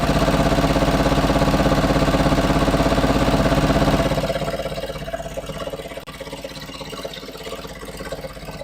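A sewing machine stitches a stretchy skort, its needle running in a fast steady mechanical whir that is loud at first, then slows and softens into a quieter, uneven rhythm.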